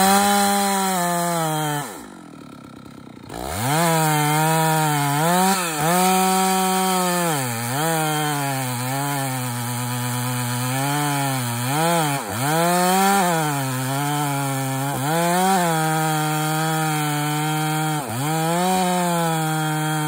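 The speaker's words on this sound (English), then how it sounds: "Next, you get your bar in past your jack seat in a back cut and a wedge seated." A chainsaw makes a back cut in a standing tree being felled with a tree jack and wedge. It runs loud and close, revving up and down repeatedly after a brief drop near the start, with no talk.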